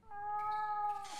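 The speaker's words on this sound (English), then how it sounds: "It's meowing." A cat meows in the point-and-click horror game The Last Door, letting out a single drawn-out, tonal meow that is fairly close and clear, with no voices over it.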